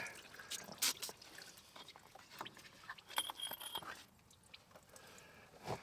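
Water and fuel drip and trickle from a drained Massey 2500 tractor, scattered splashes and small metallic clinks at close range, fairly quiet and intermittent.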